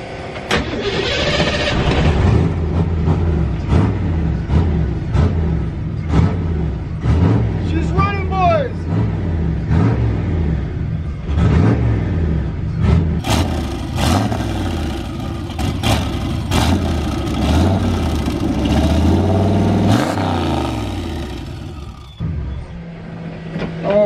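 A turbocharged Fox Body Mustang on a new setup cranks and fires, then runs with a rough, loud idle before faltering and dying near the end; voices talk and cheer over the engine.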